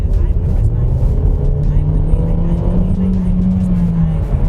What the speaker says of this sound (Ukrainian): звук мотору. Давайте зараз я придавлю.